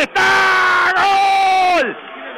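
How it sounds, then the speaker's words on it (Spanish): Stadium crowd roars in a sustained cheer as a goal goes in at a Uruguayan league match between Cerrito and Torque, a loud, dense wall of yelling that swells for nearly two seconds before dropping off abruptly. "Pelota arriba para Pereira, nace un grito de gol"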